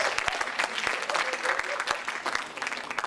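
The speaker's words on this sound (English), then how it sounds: "Round of applause." An audience at a leadership and persuasion pitch workshop gives a round of applause, a continuous, moderately loud clatter of many hands lasting about three seconds.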